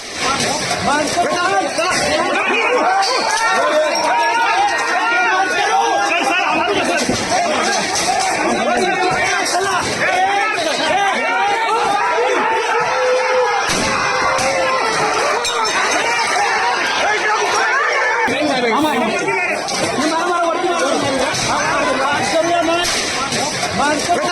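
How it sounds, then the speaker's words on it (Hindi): A dense crowd mills and shouts in the streets of Udaipur during unrest as police hold it back, with a continuous loud babble of voices, occasional sharp clinks and bursts of yelling throughout. "कैसे पुलिस रोकती है, पुलिस भीड़ को नियंत्रित करती है"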